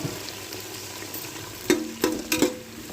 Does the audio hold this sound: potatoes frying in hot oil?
yes